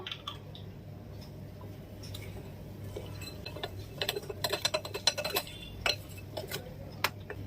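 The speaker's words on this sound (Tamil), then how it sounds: "கேக் பேட்டர் மிக்ஸ் பண்ணதுக்கு அப்புறமா ஸ்பேட்லா வச்சு இந்த மாதிரி எல்லா பக்கமும் ஓரத்தில் உள்ளதெல்லாம் எடுத்து விட்டுருங்க" A spatula scrapes Tamil-style donut cake batter, flavoured with pineapple essence, from the sides of a mixing bowl, giving soft, scattered scrapes and light clinks that grow busier midway, close and fairly quiet with no talking.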